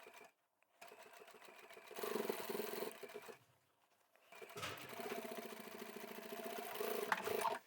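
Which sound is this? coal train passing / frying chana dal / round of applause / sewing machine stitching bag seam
sewing machine stitching bag seam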